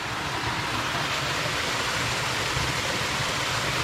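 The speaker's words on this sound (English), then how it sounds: "we made it to the little waterfall here" A small waterfall in a Costa Rican jungle rushes in a steady, dense roar, constant and close with no voices over it.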